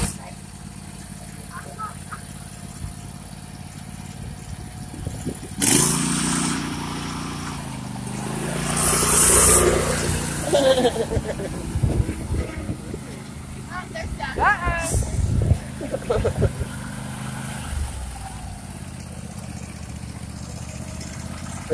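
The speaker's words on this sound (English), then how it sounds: "Brady's mower's in the mud." A ride-on lawn mower engine churns and strains while stuck in mud, revving unevenly with a shifting drone, and people talk over it throughout.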